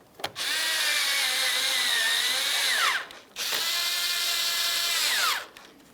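A power tool drives 10mm headed bolts into the front grille of a 2006-2012 Ford Fusion: two loud, close bursts of whirring, each ending as the pitch drops when the bolt snugs up, with a short pause between.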